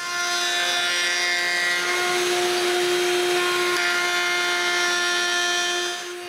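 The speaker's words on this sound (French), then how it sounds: "je coupe une feuillure à l'intérieur des deux cadres" A power tool cuts a rabbet inside wooden frames for a walnut and oak lamp, giving a loud, steady high-pitched whine with strong tonal harmonics that holds for several seconds before winding down.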